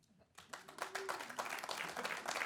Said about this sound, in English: Real quick, by sound of applause.